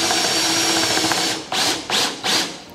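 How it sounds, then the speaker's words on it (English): A power drill fitted with a depth stop bores a hole, giving three short rising whirs in quick succession, each starting and stopping abruptly, close and loud over steady background hiss. "So when you drill the hole this time, provided the bit is in the chuck tightly"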